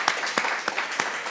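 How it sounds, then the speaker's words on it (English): Audience applause for three speakers closing a talk on sustainable volunteer programs, a short burst of scattered, fairly sparse claps at moderate volume, with no voices over it. "let's give them a round of applause"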